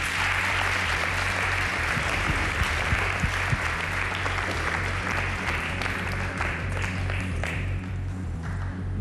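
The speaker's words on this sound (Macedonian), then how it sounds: "Аплауз." Sustained, dense applause from a studio audience at a Macedonian Idol gala show, loud and steady for the whole stretch with a low musical hum underneath.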